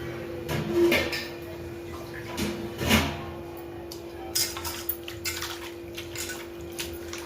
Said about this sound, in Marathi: आता कोथिंबीर आपण धुवून घेऊ